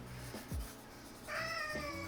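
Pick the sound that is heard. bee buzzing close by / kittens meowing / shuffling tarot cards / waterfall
kittens meowing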